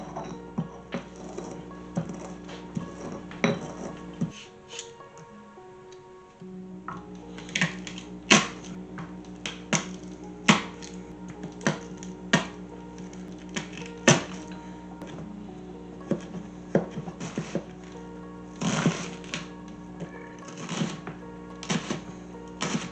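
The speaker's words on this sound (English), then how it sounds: "also going to grind up some fennel and crush some saffron" Fennel seeds are ground and saffron crushed for a seafood bouillabaisse, heard as a long run of sharp, irregular knocking taps and scrapes, close and fairly loud with brief pauses.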